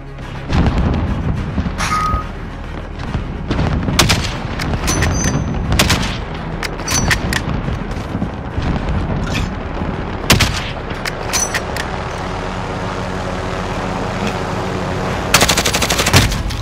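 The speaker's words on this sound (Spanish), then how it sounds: "Sigan disparando." Loud, sustained gunfire in Call of Duty: Modern Warfare, with rapid automatic bursts, sharp single shots and booming impacts layered over a rumbling battle backdrop, close and dense throughout.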